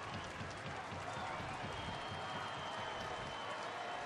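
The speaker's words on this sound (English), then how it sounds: "Dodger fans booing Barajas." Dodger fans boo catcher Barajas at a baseball game, a steady, distant wash of stadium crowd noise that holds evenly at a moderate level throughout.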